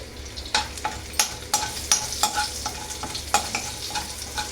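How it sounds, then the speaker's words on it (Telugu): Urad dal, chana dal, mustard seeds and cumin fry in oil for a ridge gourd chutney tempering, giving a soft sizzle broken by regular sharp spoon scrapes and clicks against the pan, close and alone. "కొద్దిగా మినప్పప్పు, కొద్దిగా ఆవాలు, కొంచెము జీలకర్ర. ఇవి ఒక 2 నిమిషాలు ఫ్రై అనేది అవ్వాలి."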